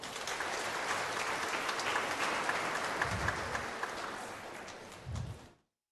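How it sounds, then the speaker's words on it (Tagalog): Loud, sustained applause from a church congregation during a homily, steady clapping that fades out at the end. "pumalakpak ng malakas"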